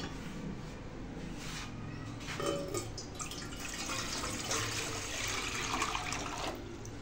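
Water is poured into a cooking pot to make sugar syrup in a village kitchen in Pakistan, a steady rushing splash lasting several seconds, moderately quiet with no talk.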